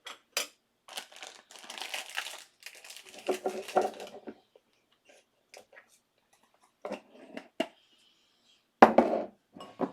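Bentonite clay mixture being stirred and mixed in a container, with irregular scraping, crinkling and clinking bursts separated by short pauses.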